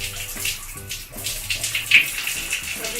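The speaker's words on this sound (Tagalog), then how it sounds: "5 minutes na. Banlawan na natin." Running water from a tap rinses a snail candy face scrub off the skin, a steady close splashing gush with uneven surges and spatters, and no talking.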